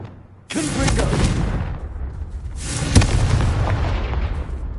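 Confringo fire-blast spell in a wizarding video game: two loud whooshing blasts, each crackling and fading over about two seconds, the second ending in a sharp hit.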